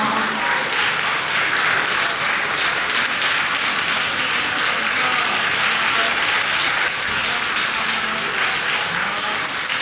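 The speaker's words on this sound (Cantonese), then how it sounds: "我哋咧請大家試過俾啲掌聲喺評估生攞到全級頭3名嘅同學" A crowd applauds the top three students of the grade at a senior-level school closing award ceremony: dense, steady clapping fills the hall from start to finish with no letup.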